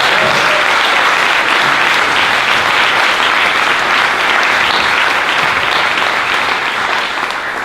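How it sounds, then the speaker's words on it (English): A film festival awards audience fills the room with loud, sustained applause for Middlebury College. The clapping is dense and even throughout, with no voices over it. "if we could have a round of applause for Middlebury College"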